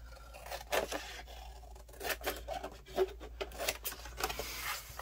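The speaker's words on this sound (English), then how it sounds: "just grab your scissors and we're just going to trim off the corners" Scissors trim the corners off paper for a handmade mini album, a series of close, crisp snips and scraping cuts in an irregular rhythm, with no talking.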